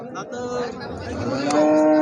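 A cow at a village cattle market lets out a clear, close moo that rises and holds briefly, with faint market background behind it.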